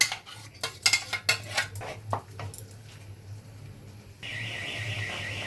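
Metal pots and utensils clatter sharply in a quick burst of knocks as watermelon rind paste goes into a wok, then the clatter stops and a steady electronic tone takes over.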